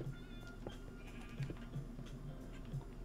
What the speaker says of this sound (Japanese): 羊